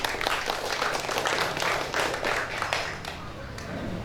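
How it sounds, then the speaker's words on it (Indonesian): Audience clapping at a village book launch for a volume written by children of Dasun village, a dense steady patter of many hands that fades slightly toward the end. "Tepuk tangannya, terima kasih."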